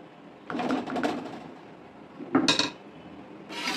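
A lid set onto a pot of cooking dal: two bursts of metallic clattering and clinking, close and moderately loud, separated by a quiet pause, with a short scrape at the end and no voices.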